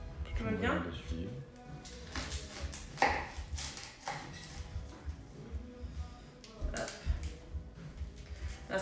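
An onion is chopped on a cutting board, with a few scattered knife strikes and a quicker burst of chops near the start, all under a woman's steady chatter.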